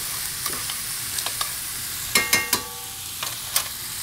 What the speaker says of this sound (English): We're gonna get that nice and toasted in the bottom of this pan.